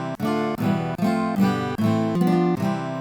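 Sustained keyboard-like chords of the C Ionian mode sound one after another in a steady upward sequence, about six full chords each held roughly half a second, close and loud with no voices.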